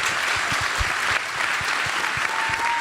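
An audience at a political event with Kamala Harris and Liz Cheney applauds steadily, a dense continuous clapping that stays loud and even throughout.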